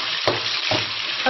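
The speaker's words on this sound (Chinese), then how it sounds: "牛烧热了，我们倒入牛肉" Beef tipped into a hot wok for spicy beef sauce, bursting into a loud, steady sizzle with a couple of scraping thumps as the meat lands and is pushed around, close up, no voices.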